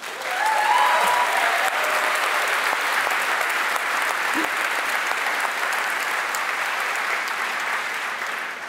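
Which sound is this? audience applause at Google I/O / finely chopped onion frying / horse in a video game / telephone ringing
audience applause at Google I/O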